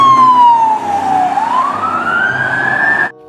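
A toy police car sounds a loud electronic siren close by. The wailing tone falls, then rises again over about three seconds before stopping abruptly.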